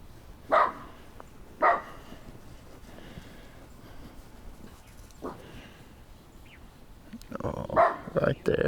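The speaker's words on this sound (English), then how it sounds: "they don't know what they're barking at either." Several sharp dog barks ring out, two early and a cluster near the end, with soft voices in the background.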